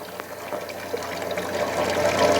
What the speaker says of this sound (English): if I start pumping the water back up to here